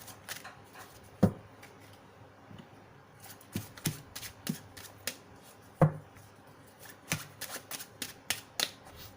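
A deck of tarot cards is shuffled by hand in quiet, irregular bursts of soft riffles and taps, close and faint, with no voices over it.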